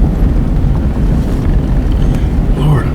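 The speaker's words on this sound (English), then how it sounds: "Lord have mercy, that wind's whipping." Strong, bitter cold wind near 50 mph on a 24-degree day in mountain Christmas tree farm country, roaring steadily and loudly against the microphone as a continuous, buffeting rush with no pauses.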